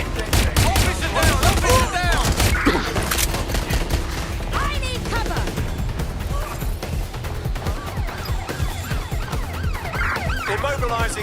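Dense gunfire in the video game Watch Dogs: Legion, continuous rattling shots mixed with wailing police sirens and shouting voices in a loud, chaotic street battle.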